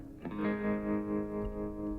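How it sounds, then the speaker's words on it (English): Telecaster played through a vintage Fender Deluxe Reverb with the amp's tremolo on and a Valhalla reverb, ringing out as a sustained chord that pulses gently in volume and trails into a wide reverb wash, heard alone. "I guess that's the trem from the amp, I guess, with a Valhalla reverb"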